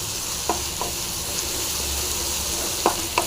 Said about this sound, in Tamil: இது சேர்த்துட்டு நல்லா ஃப்ரை பண்ணிக்கலாம் நல்லா ஃப்ரை ஆகட்டும்